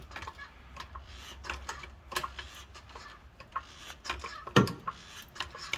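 Hand jack rig raising a compressed shock absorber on a 2006 Hummer H2, a series of quiet metallic ticks and clicks in an irregular rhythm, close by and faint, with one louder clunk near the end.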